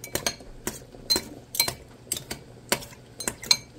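A fork clinks and scrapes against a plate while cutting up fried eggs, with a series of sharp, separate metallic taps at an irregular rhythm, close by and alone.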